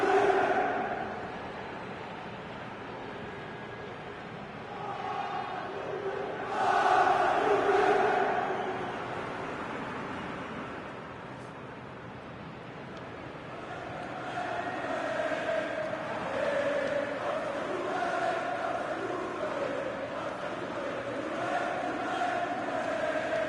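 Stadium crowd in FIFA 19 ahead of a Juventus career-mode match, a broad steady roar and murmur swelling and easing in waves, mid-distance, with a commentator-like voice speaking over it.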